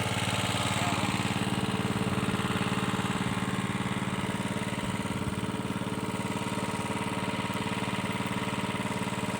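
A water pump's engine runs steadily at close range, a constant droning hum with a buzzing rattle and no change in pitch or pause throughout.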